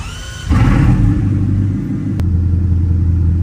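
A Bugatti Chiron's engine cranks and catches with a sudden deep, loud rumble, flaring briefly before settling into a steady, throbbing idle, heard close with no talking.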